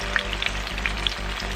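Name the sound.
saltfish fritter being flipped, sizzling in frying oil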